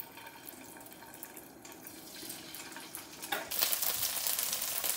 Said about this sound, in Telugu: నేను ఈ తోపు అంతా ఇట్లా షాలో ఫ్రై చేసుకుంటున్నాను